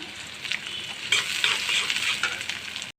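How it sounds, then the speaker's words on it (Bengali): Chopped onions fry in soybean oil while a spoon scrapes and stirs them, producing a lively close sizzle with rhythmic scraping bursts that stops abruptly just before the end. "তো পেঁয়াজটা একটু ভাজা হয়েছে"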